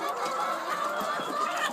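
Laying hens cluck in a coop on a Phetchabun egg farm, with several overlapping close clucks and murmurs forming a steady busy chatter.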